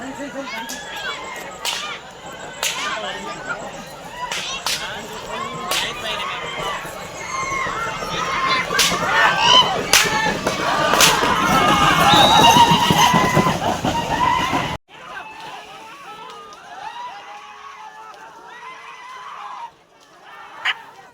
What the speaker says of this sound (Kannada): ನಂತರ ಮೆಳವಂಕಿ ಲವ ಮತ್ತು ನಂದಗಾಂವ್ ರಾಖಿ ಎಂಬ ಎತ್ತುಗಳ ಸ್ಪರ್ಧೆ ನೋಡ್ರಿ ಗೆಳೆಯರು